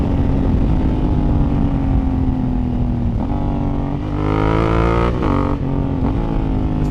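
A Honda Africa Twin motorcycle powers out of a tight hairpin, its steady engine drone rising in pitch as it accelerates hard, loud and continuous throughout.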